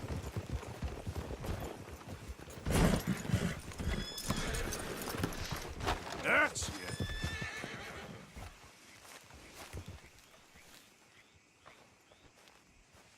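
Horse hooves clop along while a horse neighs loudly partway through in Red Dead Redemption 2; a voice speaks briefly, and the sounds fade toward quiet at the end.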